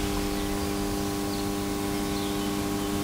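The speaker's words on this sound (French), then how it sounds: "Ce ronronnement, c'est un compresseur." A compressor in an emptied Moulinex factory in Mamers, 1998, gives a steady mechanical hum with a faint hiss, running unbroken throughout, constant in level, with no voices.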